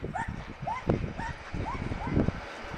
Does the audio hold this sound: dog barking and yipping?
yes